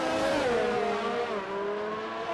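A high-pitched racing engine from the RSF1 racing game at the Canada circuit, likely a Red Bull Honda Formula 1 car, whines steadily and loud with rising and falling pitch, no voices over it.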